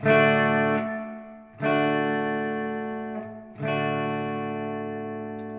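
Electric guitar played through an Oceans 12 dual stereo reverb pedal on a dotted-eighth delay setting: three sustained chords, each ringing out alone with trailing repeats and a lush reverb tail.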